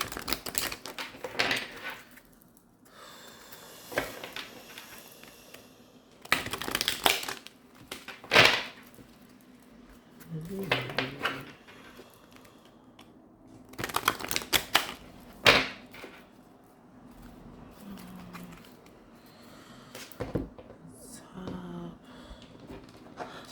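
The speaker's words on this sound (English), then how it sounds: "I'm shuffling so much because I haven't used my cards." A deck of tarot cards is shuffled by hand up close, in repeated crisp bursts of riffling and slapping separated by quieter pauses.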